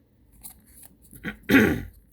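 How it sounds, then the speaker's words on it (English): A single harsh cough bursts out near the end, loud and close, after a few quieter small noises. "I end up coughing in some way"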